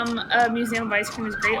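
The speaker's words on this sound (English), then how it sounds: "Also, apologies for the siren." A siren wails in a Sea of Thieves game session, its rising and falling tones mixed under a person talking, moderately loud throughout.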